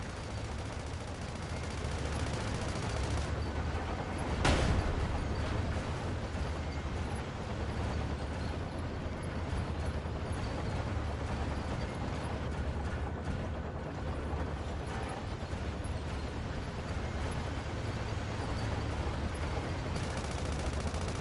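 Gunfire in the SandLand game during a battle against a machine gun emplacement, with a dense, continuous rumble of shots and one sharp loud blast early on, no voices.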